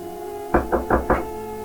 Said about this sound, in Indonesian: Ketukan pintu membungkam obrolan mereka.